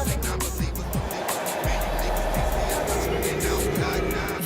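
Radio-controlled model trucks run on a large indoor track at an expo, giving a constant loud motor whine with rising and falling revs over a dense hall hum.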